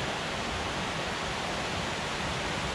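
A mountain valley stream flows with a constant, even rush of water, a dense hiss that stays close and steady with no voices over it.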